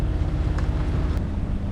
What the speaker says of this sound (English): As you can probably hear, we've got the engine on.